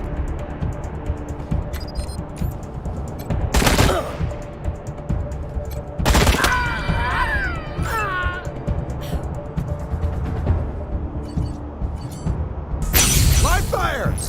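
Gunfire in the video game Wasteland 3, with sharp loud bursts rising out of a steady background bed of game noise at three points, while someone talks across much of the stretch.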